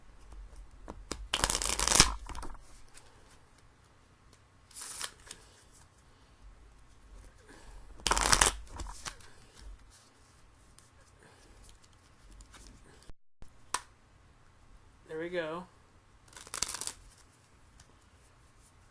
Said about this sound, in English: first we're going to shuffle the deck